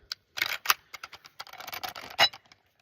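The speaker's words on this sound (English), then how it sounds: "Open up our bolt." The bolt of a Savage takedown rifle is worked open, giving a quick run of sharp metallic clicks and clacks, close and alone in an otherwise quiet room.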